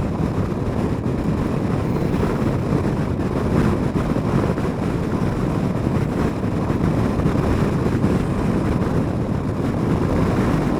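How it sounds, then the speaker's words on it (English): Strong wind buffeting the microphone, a constant loud roaring rumble with no pauses throughout. "It's really, really windy"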